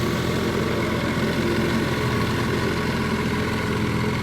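A 1961 Johnson 10 HP outboard motor, restored, runs at a steady, even drone throughout, loud and close, with no other sounds.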